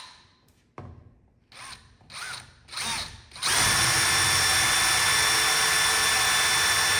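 A power drill spins up in a few short, rising bursts, then bores steadily through a flimsy plastic shower wall panel from a MAAX Cyrene corner shower kit. The whine is loud and close, with no talking.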